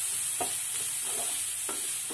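Garlic, onion and curry leaves fry in about three spoons of oil, a steady close sizzle with a few soft stirring scrapes and no voices.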